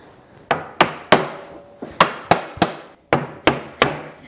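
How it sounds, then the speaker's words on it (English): A mallet knocks precisely cut wooden boards into place on a DIY twin bed frame. About eleven sharp, close wooden knocks come in small groups of two and three, each with a short ringing decay and no talk. "we're gonna use a mallet because I cut these so precisely"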